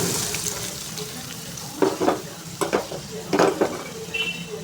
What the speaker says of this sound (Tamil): வெங்காயம் மட்டும் வதங்கணும்